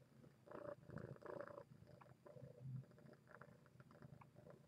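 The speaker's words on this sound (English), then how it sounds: "See if you guys can hear this purring." Milo, a pet cat, purring right up against the microphone in soft rhythmic rumbling pulses, quiet and close, with no voices over it.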